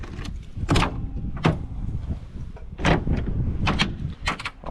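Rear door of a 1995 GMC Yukon with a newly replaced handle and lock actuator opens and closes, giving several sharp latch clunks and thumps at irregular intervals, close by and fairly loud.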